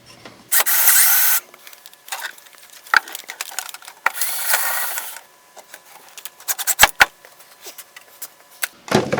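A power drill drives screws into a router table dust box in the wing of a Ridgid R4512 table saw. There are two short, loud whirring bursts, with scattered clicks and wooden knocks of handling between them.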